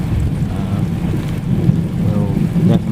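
Heavy rain falls steadily during a storm at a manufactured home site, a loud, dense wash that swells slightly toward the end with some low rumbling underneath.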